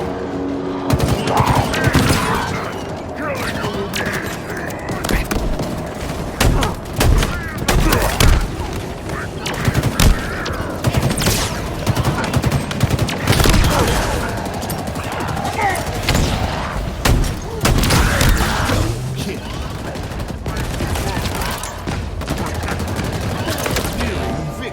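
A firefight erupts with dense, continuous gunfire, rapid bursts and single shots overlapping loudly and nearby, with shouting voices mixed in throughout.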